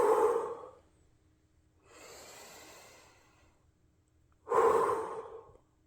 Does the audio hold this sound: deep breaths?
yes